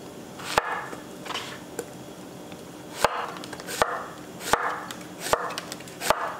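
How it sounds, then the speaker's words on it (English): Kitchen knife chopping vegetables such as zucchini and onions on a cutting board, with crisp, close, single strikes landing at an uneven, unhurried rhythm and no talking. "Let's cut up our veggies."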